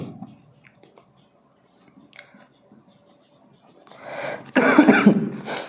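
A teacher coughs during a Hindi maths lesson, a loud burst of several harsh coughs near the end after a few seconds of near silence with faint rustling, close to the microphone.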